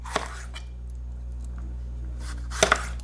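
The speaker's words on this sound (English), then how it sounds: "cut the onion" A knife chops an onion on a board while Indonesian-style tomato sauce is prepared, making a few sparse, close knocks over a low steady hum.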